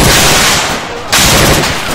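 Dense, loud gunfire in ArmA 3, a steady wash of rapid shots filling both seconds with a brief lull in the middle before the firing surges back.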